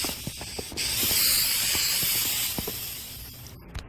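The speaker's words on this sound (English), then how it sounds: "Did you spray every crack?" An aerosol insecticide can sprays in a long, steady hiss lasting a few seconds, with scattered clicks and knocks around it, then cuts off.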